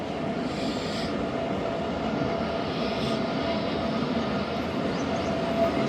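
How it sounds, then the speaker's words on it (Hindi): A train pulls out of Pattoki railway station, a steady rolling rumble of wagons on rails filling the space, loud and continuous throughout with no one speaking. "तीन मिनट स्टॉप के बाद दोस्तों पतोकी रेलवे स्टेशन से ट्रेन रवाना हो गई है हमारी।"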